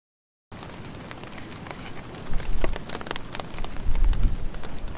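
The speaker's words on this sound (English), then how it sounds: "It's not raining too bad right now." Rain pattering on a tarp over a camp during an overnight stay in heavy rain and wind, a steady close hiss of drops that swells louder with gusty low rumbles.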